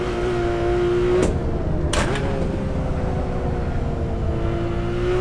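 In the Assetto Corsa racing game, a Porsche 911R lapping the Nordschleife runs at a steady engine drone with tyres scrubbing through a corner, the tone dipping briefly with quick gear changes, continuous and without talk.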